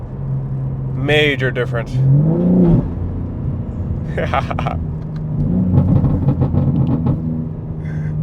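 BMW G80 M3 with the S58 engine and ARM single mid-pipe, valves open, giving short loud revs and crackling bursts between stretches of someone talking over the idle.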